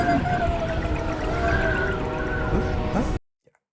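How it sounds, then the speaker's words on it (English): Orchestral film-score passage with cello and horn, a sustained, tonal texture of held notes layered over a dense low body, steady and fairly loud for about three seconds before cutting off abruptly into silence. "you can hear this little, I think it's like cello and horn."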